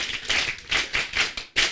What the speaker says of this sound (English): let's give everybody, including ourselves, a round of applause